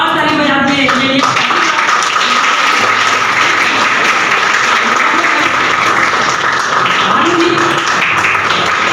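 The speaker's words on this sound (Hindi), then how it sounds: "एक बार जोरदार ताली बजाते हैं इनके लिए" Audience at a ten-day workshop event breaks into loud sustained applause for the guests, dense clapping filling the hall with a voice speaking over it at the start.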